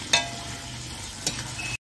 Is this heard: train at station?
no